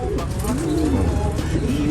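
Pigeons cooing steadily and close by, a low continuous murmur of several birds with soft warbling calls overlapping throughout.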